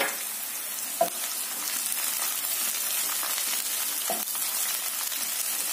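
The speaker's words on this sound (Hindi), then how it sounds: "देखिए प्याज हो गया है, अब इसी के साथ हरी मिर्च डाल देंगे जो मैंने पहले से ही काट कर रखा था" Green chillies tossed into frying onions for urad dal khichdi, giving a steady broadband sizzle with a sharper burst as they hit the oil, then continuing hiss and faint stirring.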